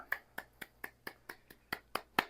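Nine sharp hand claps or snaps in an even, steady rhythm, close and clear against a quiet background, growing slightly louder toward the end; no voices.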